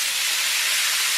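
Peppers cooking in a pan give off a loud, dense, steady hiss of sizzling, unbroken and close throughout.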